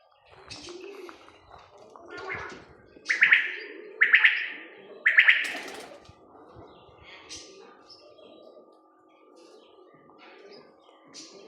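Several soft, throaty pigeon coos with some chirps, close by, standing out over a low background hum with faint talk.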